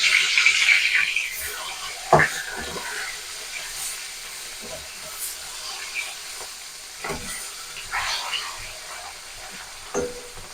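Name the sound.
rohu fish pieces turned over and frying in mustard oil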